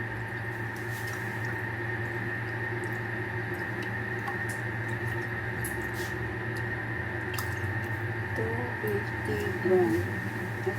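About 250 grams of fresh milk pours into a Thermomix bowl to start a bechamel sauce for lasagna bolognese, a soft liquid trickle under a steady machine hum that continues throughout.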